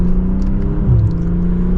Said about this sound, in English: As we get up to speed, I think it still has a really good exhaust note to it.